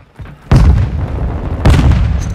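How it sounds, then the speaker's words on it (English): A grenade explodes during a team deathmatch in Call of Duty: Modern Warfare II, giving two heavy booming blasts about a second apart with rumbling low tails. Both are loud and close, with no talk. "Grenade out!"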